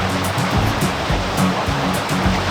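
River water rushes continuously and loudly nearby, a dense steady broadband wash with small rhythmic surges, no voices.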